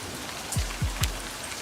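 Steady rain patters on a surface in the video game Livber: Smoke and Mirrors, a soft continuous hiss broken by a few low thumps, with no voices.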